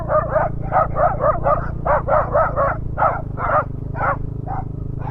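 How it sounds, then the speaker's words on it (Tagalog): Several dogs bark in repeated, overlapping bursts near a river with homes and cages along the path, a steady low hum running beneath the barking throughout. "Daming aso."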